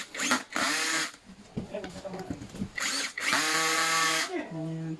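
A power drill drives bolts while an office chair is assembled, revving in several whirring bursts of varying pitch close to the listener, with short pauses and handling noise between runs.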